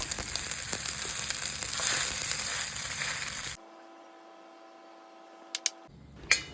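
An egg fries in an OGMY nonstick wok pan, a steady close sizzle for several seconds. It cuts off abruptly into a quiet hum, and a few sharp clicks follow near the end.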